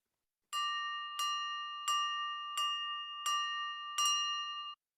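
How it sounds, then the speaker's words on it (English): An icebreaker bell chime in an online meeting rings six times in an even, evenly spaced rhythm, each clear metallic ding ringing briefly and alone with no talk. "there is that icebreaker and brain teaser bell"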